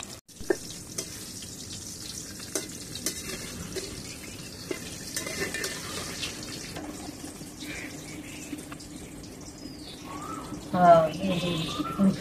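Green chilies charring in a pan for lentil bharta give off a faint, steady crackle and sizzle, with a brief splash of water near the end and a voice talking over it.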